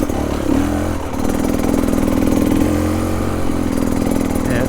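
A Beta Xtrainer 300 dirt bike engine revs while being ridden, loud and close, with a steady buzzing drone that dips briefly and climbs again, no talk.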